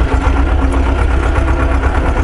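A tractor engine drones loudly and steadily while driving over rough, bumpy field ground, a constant low rumble with a rattling vibration and no talk.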